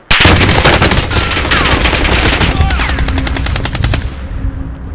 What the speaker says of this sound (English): I'll shoot right in front of us.